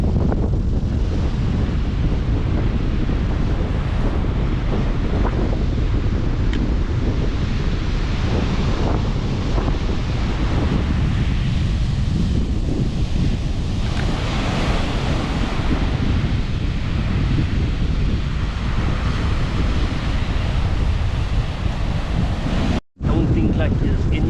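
Strong wind buffets the microphone on a beach beside a shipwreck while surf rolls in, a continuous loud roar of gusts and breaking waves that lasts throughout and cuts out abruptly for an instant near the end.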